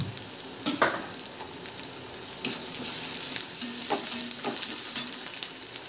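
Onion, brinjal and potato fry in a pan for a mixed vegetable dish. A steady sizzle continues close up, broken by scattered clinks and scrapes of stirring, and nobody talks.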